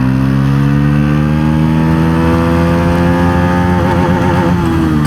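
A 2025 Bajaj Pulsar NS400 motorcycle accelerates hard in third gear, its loud, close engine drone climbing steadily in pitch as the revs build, then wavering toward the end.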